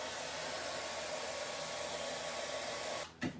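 A hair dryer blows steadily and loudly over freshly stenciled paint, a continuous broadband whoosh that cuts off near the end with a brief clunk as it is switched off.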